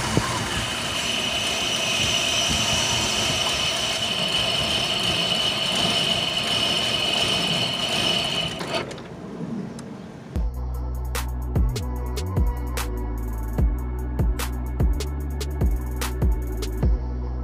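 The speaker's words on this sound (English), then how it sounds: "Then start the engine, let it stall out" A 1997-1998 Jeep Grand Cherokee engine, with the fuel pump relay removed, runs with a steady drone for about nine seconds, then falters and dies out as it stalls. Rhythmic background music follows.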